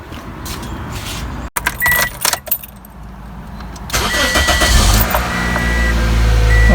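A Toyota Corolla engine cranks with a brief whirring start and catches, then settles into a loud, steady idle close by, after a new serpentine drive belt has been fitted; no talking.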